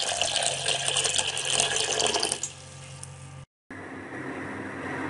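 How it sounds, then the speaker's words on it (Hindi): Water pours steadily from a tap into a big pot for a gas burner cleaning soak, a loud continuous hiss and splash that drops in level partway through, briefly cuts out, then resumes. "तो किसी बड़े बर्तन में हम दोनों चीज़ को डाल देंगे और इसमें पानी डाल देंगे"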